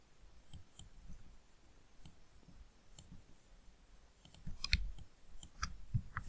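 A computer mouse clicks several times at irregular intervals, quiet close taps over a faint room hum with no voices.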